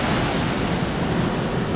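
Ocean surf at Ocean Beach rushes in a steady, loud broadband wash, with no break and no voices.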